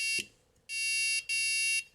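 Electronic beeping from a memory game toy: a short tone, then two long sustained beeps separated by a brief gap, loud and close.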